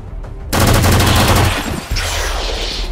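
A loud rifle volley fired in the video game XCOM 2 bursts out abruptly after a quiet moment and rattles on for over a second before a second blast and a lingering rumble.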